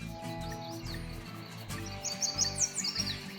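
Birds chirp and call at a shaded campsite beside the Gila River in New Mexico wilderness, a series of bright, fairly faint tweets in the latter half over a low steady background hum.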